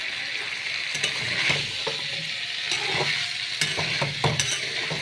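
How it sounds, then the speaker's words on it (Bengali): Whole potatoes coated in spices fry in hot oil with a constant close sizzle. A spoon stirs them, making repeated scraping knocks against the pan, and nobody speaks. "আলুগুলো ভালো করে কষিয়ে নেব, মশলাগুলো দিয়ে কষিয়ে নেব।"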